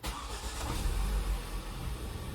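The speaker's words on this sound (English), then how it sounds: "getting the car started" A 2011 Volvo XC60 petrol engine starts and settles into a steady, low idle rumble, a close, moderately quiet drone with a brief swell as it catches.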